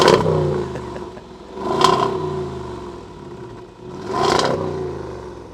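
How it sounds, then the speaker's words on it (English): A Range Rover Sport SVR's supercharged V8 idles with a deep, throbbing rumble and is revved twice in sharp blips, each rising and falling back to idle. "So there's a turbocharged V8, but what about a supercharged V8?"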